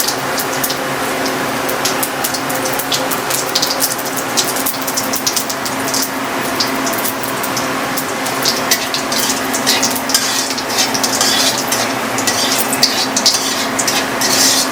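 Bay leaf and white cumin seeds sizzle steadily in hot oil in a pan for a Bengali potol chingri dish, a continuous crackling fry with fine pops, close and fairly loud, with no talking.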